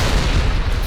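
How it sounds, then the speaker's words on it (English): Dense, continuous burst of video game gunfire and explosions, loud and low-heavy, with no gaps between the booming shots through the short stretch. "nice shooting, Brian."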